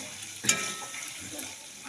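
Potatoes fry with spices in a hot pan with a soft, steady sizzle, briefly louder as they are stirred near the start.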